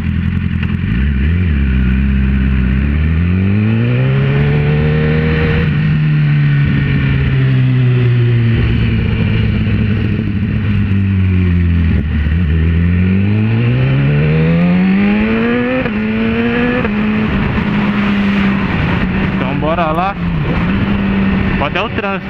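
Cars move through Saturday traffic on a road in Brazil, heard from inside a vehicle as a steady engine hum rises and falls with shifting pitch and passing vehicles, with someone talking throughout.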